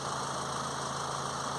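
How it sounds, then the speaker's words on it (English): A Honda CR-V with a 2.2 diesel engine, in restricted-power limp mode with a DPF fault, idles with a steady, even droning hum and a faint vibration, close and unbroken throughout. "now we can start the engine up"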